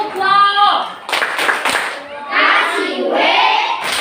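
A classroom group performs the 'tepuk wow' clap, with a burst of rhythmic clapping amid children's chanting voices, sitting close and fairly loud.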